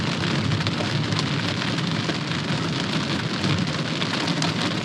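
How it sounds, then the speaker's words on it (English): Heavy rain drums hard and continuously on a camper roof during a hailstorm in the Black Hills, a loud, dense, unbroken roar very close overhead with no voices. "it is starting to rain so hard"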